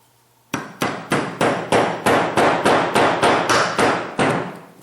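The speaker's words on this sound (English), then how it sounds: "get it started, make sure the pin is loose, and then drive it home with a punch." A punch is hammered to drive a small dowel pin home: about ten sharp, evenly spaced metallic strikes in a steady rhythm, close and loud with no talking.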